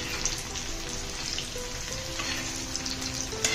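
Steady crackling sizzle of crushed ginger and garlic frying in a hot pan for misal, continuous and close, with faint scraping now and then and no voices.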